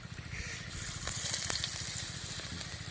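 Vegetables fry in a pan with a steady, close sizzle and crackle, and faint stirring scrapes run underneath. No one speaks.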